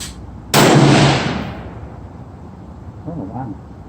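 A single sharp rifle shot from a Thompson Center Compass in 6.5 Creedmoor fired off a bipod at a range, loud and close, with a reverberating tail that fades over about a second, followed by faint speech.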